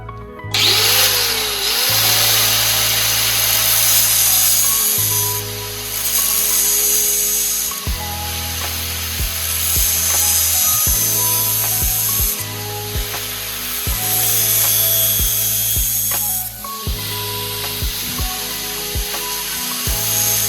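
A power tool whines in long repeated bursts with brief pauses, cutting relief cuts into sheet metal for a Datsun 620 cab corner with a harsh, high, buzzing grind up close.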